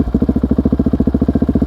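A motorcycle engine runs close up, its valves out of adjustment, with a fast, even, pulsing thump and a ticking, clattering mechanical rattle over the throb.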